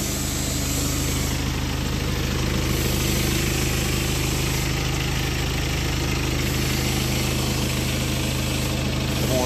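A BMW X6M engine runs steadily through a turbo actuator test, a close, continuous mechanical drone with a constant low hum and no pauses.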